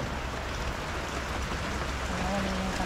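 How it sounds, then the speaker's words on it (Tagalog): Heavy rain falling, a dense steady hiss of drops without pause, close and loud throughout. "kasi malakas pa yung ulan"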